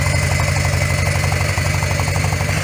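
A Harley-Davidson FLHS Electra Glide motorcycle with a freshly repacked exhaust idles nearby. Its loping low rumble pulses steadily, mellow and continuous, with no voices.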